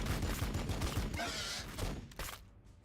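Rapid gunfire from Warhammer 40k: Battlesector bursts out in a dense, loud fusillade of repeated shots lasting a couple of seconds before fading off.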